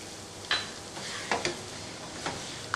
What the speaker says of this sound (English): We're just going to give it a very good mix and then turn it off.